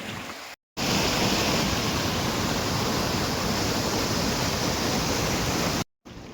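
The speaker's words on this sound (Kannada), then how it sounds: "ನೋಡಿ ನೀರು ಹೆಂಗೆ ಹೋಗ್ತಾ ಇದೆ ಅಂತ." Tungabhadra river water rushing near Hampi: a loud, steady, close roar of churning water that fills the clip, broken only by two brief silent gaps near the start and end.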